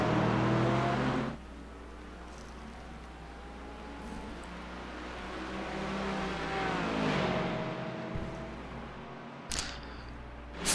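Race cars at Laguna Seca Raceway in a multiclass event rush past, a loud engine roar fading into a steady, more distant drone with rising whine of another car, then a brief loud burst near the end.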